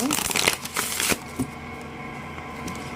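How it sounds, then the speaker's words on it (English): A deck of oracle cards is shuffled briskly up close, a quick riffling burst of papery flicks followed by a few softer taps and quiet room tone. "So now we're shuffling the deck."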